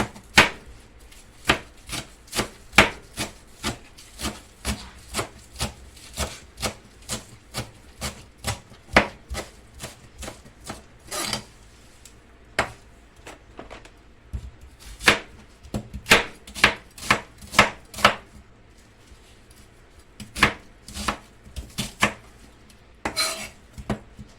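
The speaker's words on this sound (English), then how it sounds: "slicing or chopping up your vegetables" A knife chops vegetables on a board in quick rhythmic bursts of sharp clicks, pausing briefly between runs, close and clear with no talking.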